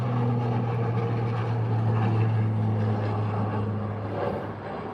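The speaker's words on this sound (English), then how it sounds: "And the Beechcraft touchdown." A Beechcraft propeller airplane touching down at Calgary airport, heard as a steady droning prop engine hum with a strong low tone, moderately loud and fairly constant, easing off slightly toward the end.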